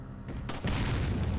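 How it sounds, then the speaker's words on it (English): A gunshot in the Resident Evil 4 video game lands as a sudden broad blast that swells into a loud, sustained rumbling crack after a quieter moment, heard alone without talk. "Alright, I'll just shoot it."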